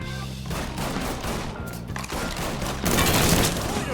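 Dense gunfire in Mafia III: rapid overlapping shots and bursts, loud and close, with a heavier boom-laden volley near the end over a constant battle din.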